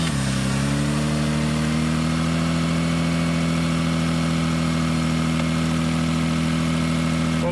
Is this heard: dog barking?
no